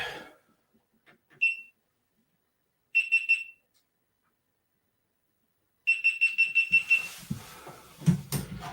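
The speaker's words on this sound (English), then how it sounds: "GoPro sure likes to beep a lot." GoPro camera giving high electronic beeps: a single beep, then a short cluster, then a rapid string of about eight beeps, followed by some handling clatter, close and otherwise quiet.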